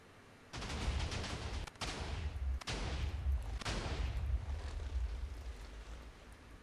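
TNT cannon blasts in a video game go off as a series of deep, rumbling booms, a few explosions in quick succession with brief gaps, thick low-end roar sustained between hits.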